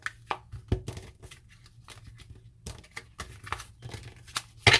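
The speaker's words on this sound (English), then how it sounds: "Sometimes I'll shuffle vertically if it's too hard. But because this is flexible cardstock, it's not that hard for me" A deck of oracle cards made of flexible cardstock being shuffled by hand, a series of irregular papery riffles and crisp flicks close up, with no talking.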